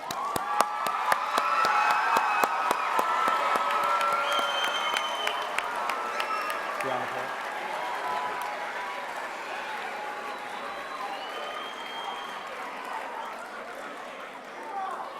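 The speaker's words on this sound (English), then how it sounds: "Congratulations on your graduation, students. Now you can clap." An audience at an eighth grade graduation ceremony at an intermediate school applauds the graduating students, a long steady wash of many hands clapping in a large hall with scattered cheers and some sharp nearby claps, gradually thinning.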